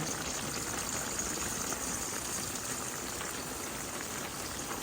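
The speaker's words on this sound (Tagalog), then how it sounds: "kumukulo na yung ating pinakbet." A steady, dense bubbling and sizzling hiss of pinakbet vegetable stew at a rolling boil, continuous and fairly quiet with no voices.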